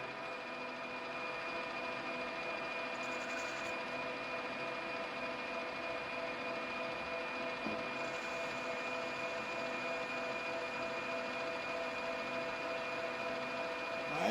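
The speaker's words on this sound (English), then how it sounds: "now we're going to machine this down to 24 millimeters" A lathe machines a plastic workpiece down to 24 millimeters with a steady, droning hum and a faint whine that holds level for the whole stretch, with no voices.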